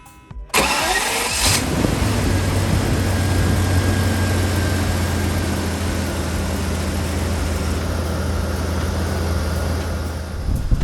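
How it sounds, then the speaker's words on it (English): An engine cranks and catches, then settles into a steady, smooth idle with a low mechanical rumble, close by and loud; a BMW 850CSi V12 with under 5,000 miles. "This engine runs perfectly."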